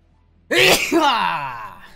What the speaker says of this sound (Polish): Ale mi się kichnęło.